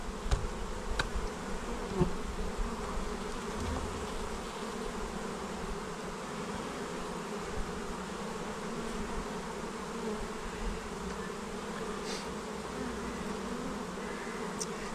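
Honeybees hum from a well-populated hive being opened for the first inspection of the year, with smoke in use. The buzzing is continuous and layered, with occasional louder individual bees passing close, and no talk.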